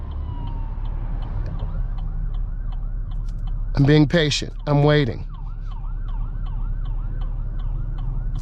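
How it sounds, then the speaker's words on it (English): Emergency vehicle siren wailing in a repeating up-and-down pattern at moderate distance in road traffic, over a low engine hum, with a voice speaking briefly in the middle. "You should be able to hear the siren."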